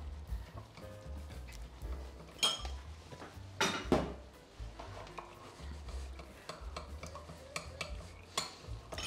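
A spoon stirs corn flour into lemon juice in a bowl, soft scraping and clinking strokes in an irregular rhythm, close and fairly quiet.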